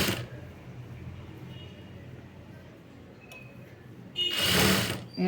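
A sewing machine stitches piping onto a blouse, a steady close mechanical whir that surges into a louder burst of fast stitching near the end.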